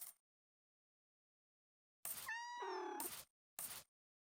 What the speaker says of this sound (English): Oh wait, I hear kitties.